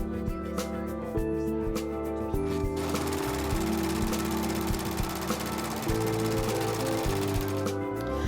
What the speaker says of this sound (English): All right, I'm back from the serger.